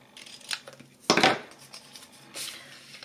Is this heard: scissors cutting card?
yes